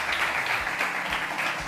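Audience applause at the Playground Stage of South Summit 2023 for a departing guest, a soft, continuous wash of many hands clapping at a steady level, somewhat distant.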